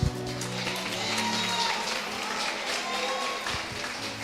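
A church congregation claps together in a sustained, dense burst of applause that fills the hall, fairly loud and without a break.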